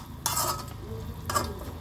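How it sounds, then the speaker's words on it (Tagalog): Chicken feet being stirred with laurel leaves in a pan, giving two distinct scraping, clinking strokes of a utensil against the metal pan over a low background sizzle. "Ayan, lagyan na natin yung dahon ng laurel. Paghalo-haloin natin."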